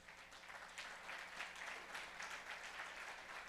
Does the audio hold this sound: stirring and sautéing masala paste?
no